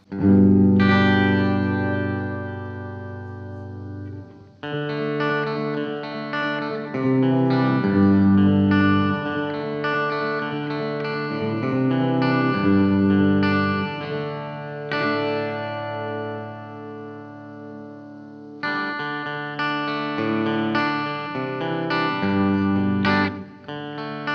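Sustained chords ring out through an Aural Dream reverb with pre-delay, a washy, delayed tail, the echoes blooming shortly after each note and layering into a spacious sound.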